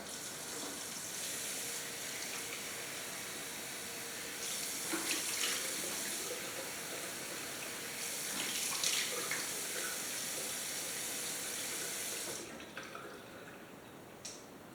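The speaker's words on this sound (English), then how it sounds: "So now I'm going to rinse with cold water." Cold tap water runs steadily into a sink, the splashing swelling and easing as hands move under the stream during a rinse after wet shaving, then cuts off near the end.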